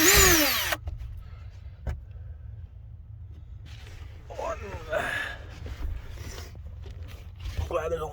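A cordless 20-volt power drill backs screws out of a Glastron Carlson CVX-16 boat, with a short loud whir at the start and quieter intermittent drilling bursts afterward, close by over a low steady background hum.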